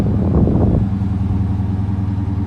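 A 2017 Dodge Charger Daytona with a straight pipe exhaust gives a short throttle blip, then settles into a steady, close, rumbling idle.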